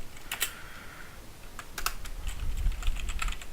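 A computer keyboard clacks with a handful of quick keystrokes in short clusters, close and fairly quiet over a low background hum, with no voice.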